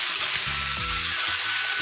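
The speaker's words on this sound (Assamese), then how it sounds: "এইখিনি মই এতিয়া অকণমান ৰঙচুৱাকৈ ভাজি ল'ম।" Chicken pieces frying in a pan until lightly browned, a continuous loud sizzle with a few low stirring knocks and scrapes underneath, and no voices.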